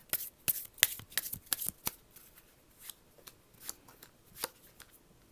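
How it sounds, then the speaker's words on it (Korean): Tarot cards being shuffled and drawn during a reading: a burst of sharp riffling snaps in the first two seconds, then scattered softer slides and flicks of cards, close and alone. "그럼 추가 카드 한번 뽑아볼게요."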